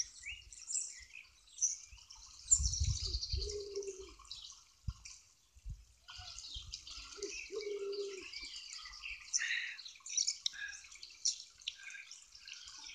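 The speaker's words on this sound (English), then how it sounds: "Shout out to our feather friends, the birds." Small wild birds chirping outdoors in snowy UK weather, faint scattered high tweets and calls spread over the whole stretch, with a few soft low thuds and knocks in between.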